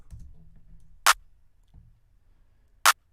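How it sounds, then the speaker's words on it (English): Two sharp, bright clap hits, spaced well apart, against a quiet low background hum. "Here's a clap."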